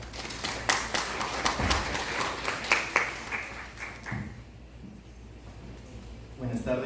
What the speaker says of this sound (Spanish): Lo recibimos con fuertes aplausos